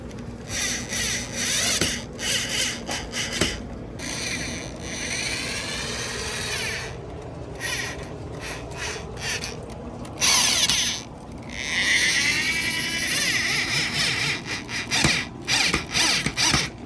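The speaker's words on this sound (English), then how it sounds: "So let's start screwing them in." A power drill drives screws into a foam rock background for a large outdoor enclosure, whirring in repeated bursts with short pauses and ratcheting clicks between them, close and fairly loud.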